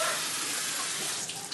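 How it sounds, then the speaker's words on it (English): Tap water runs steadily into a sink while someone washes their hands, a soft, even hiss alone without talk. "Wash your hands good, please."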